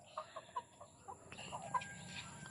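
Chickens at a home yard cluck softly in short, scattered calls, fairly faint and close, a few distinct clucks standing out over a quiet background.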